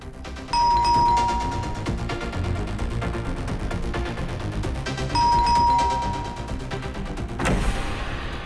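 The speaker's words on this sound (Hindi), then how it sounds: "कितना घंटी बजाते हो?" A doorbell rings twice, each a bright two-tone chime, with busy background noise and a sharp knock near the end.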